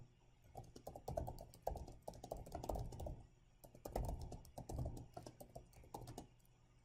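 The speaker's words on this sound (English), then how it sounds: "So I'm typing." Quiet typing on a computer keyboard during a telnet session: irregular bursts of soft, close key clicks with brief pauses between runs of keystrokes.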